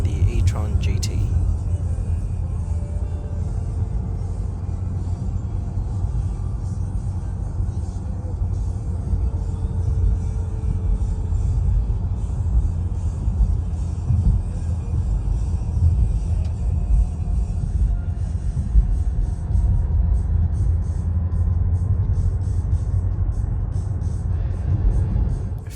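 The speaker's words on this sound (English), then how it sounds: "Here's some raw audio footage straight out of my iPhone in the e-tron GT." Cabin of an Audi e-tron GT electric car on the move, with a steady low road rumble and wind hum filling the interior continuously at even loudness.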